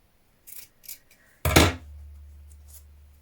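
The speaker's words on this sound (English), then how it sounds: "Once you're sure you have enough, you can trim away some of this excess." Scissors trimming excess dress fabric, a couple of light snips followed by one louder, sharper cut close by, then a quiet hum, with no talk.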